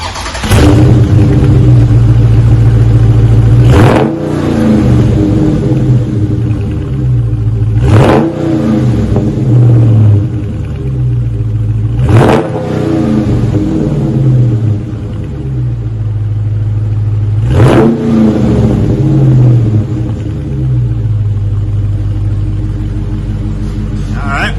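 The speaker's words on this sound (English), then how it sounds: "Let's see what it sounds like stock." Stock exhaust on a 2021 Dodge Charger 6.4, heard up close as five or six sharp throttle blips over a deep idle rumble, each rev rising fast and falling back, spread evenly and loud throughout.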